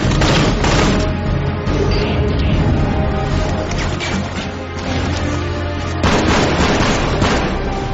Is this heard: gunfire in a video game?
yes